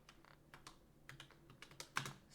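Keys on a computer keyboard are tapped in a quick, uneven run of soft clicks, close and quiet, with one slightly sharper keystroke near the end and no talking.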